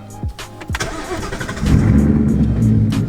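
A Ford Mustang with a 6-speed manual cranks over with a few starter whirs, then catches and settles into a loud, steady, rumbling idle, heard from inside the car with no talking.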